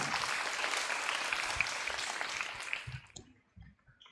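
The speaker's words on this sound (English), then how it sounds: "Let us clap for our Primary 3 prefects and encourage them on." Sustained applause from a school assembly honouring Primary 3 prefects at a student leaders' investiture, steady at first, then thinning into scattered claps that fade out near the end.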